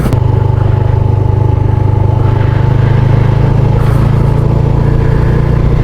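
Motorcycle engine running steadily while riding an unpaved off-road track toward a dam in Sindh, a loud continuous low drone with rattling and clatter, close to the rider, with no talk.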